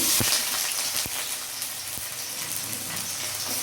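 Onions dropped into hot oil, a close, steady sizzle with a few sharp knocks of utensils against the pan.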